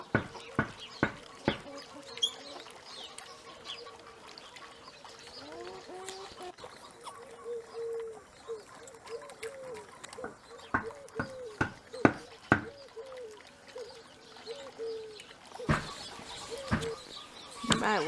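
Chickens on a farm cluck and murmur nearby during morning chores, with scattered sharp knocks and clatter over a quiet outdoor background, and someone talks to them.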